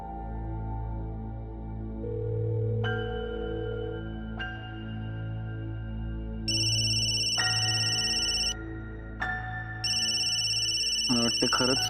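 A mobile phone rings unanswered with a sustained electronic ringtone of held tones that step up and repeat, playing softly over a low background drone without clear talk.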